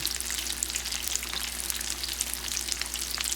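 Panko-coated fish deep frying in hot oil gives a steady crackling sizzle with scattered bright pops, continuous and close, with no talking over it.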